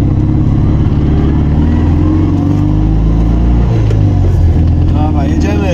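A small Fiat 126p Maluch engine drones loudly and steadily up close while other cars pass by, with a rising, sweeping pass near the end.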